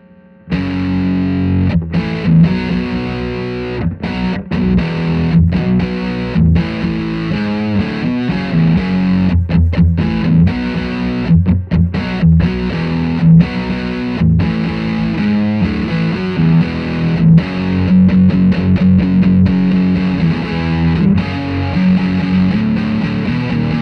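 An electric guitar runs through an Ethos TWE-1 overdrive pedal in a sustained, loud, distorted passage of chords and riffs lasting over twenty seconds, with short choppy breaks between strums.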